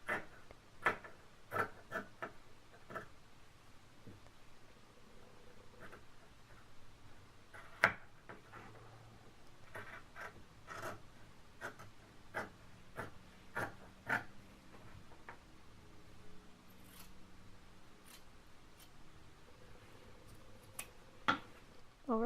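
Scissors snip through a shirt dress along a traced armhole on a folded shirt, giving a long run of sharp, irregular blade clicks and crunches, close and fairly quiet, with brief pauses between cuts.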